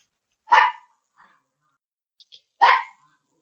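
A dog gives two sharp, separate barks about two seconds apart, fairly close, with near silence and a faint small noise between them.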